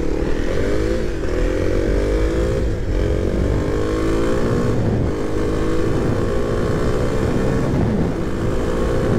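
Kawasaki KLX dual-sport motorcycle accelerating on a road, its engine revving loudly and climbing through gears with brief dips at each shift, steady wind roar underneath.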